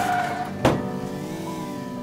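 A car in the Roblox game Work at a Pizza Place: a steady, loud engine drone with a sharp thump partway through, like an impact, then the engine carries on.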